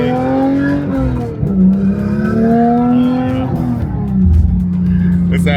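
A manual Porsche 911 992.1 GT3 engine revs hard, pitch climbing and dropping through repeated pulls and shifts. It is loud and close, with a continuous high-revving roar throughout.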